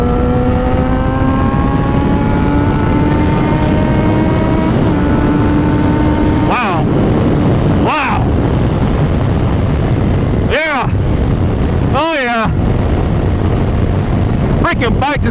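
A Yamaha FZ6R motorcycle engine winds up hard toward its top end, loud and close, its pitch climbing in long sweeping rises broken by sharp gear-change dips and renewed pulls.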